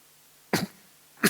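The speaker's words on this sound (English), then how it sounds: "Cough, cough." A person gives two separate coughs in an otherwise quiet room, the first sharp and followed by a short rasp, the second coming after a pause.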